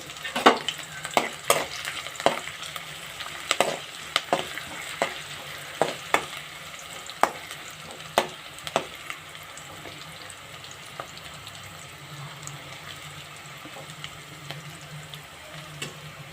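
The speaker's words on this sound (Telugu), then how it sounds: "ఆనియన్స్ మంచి ఫ్రై చేయాలి" Onions frying in a pan for a peanut okra fry: a soft, steady sizzle broken by repeated sharp spatula taps and scrapes against the pan, close and fairly quiet.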